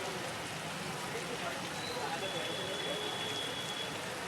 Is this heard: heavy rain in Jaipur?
yes